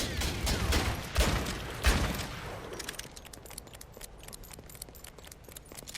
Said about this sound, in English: So if I fire a bunch of shots, I can reload, and then I can interrupt that before I have all of my shots reloaded.